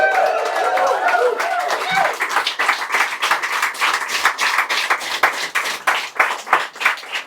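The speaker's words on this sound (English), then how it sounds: "Didn't even give my introduction and you applauded her." A live audience at a public event applauds a speaker's introduction with loud, dense clapping that thins into a rhythmic, scattered patter of individual claps, with a voice talking briefly over the opening.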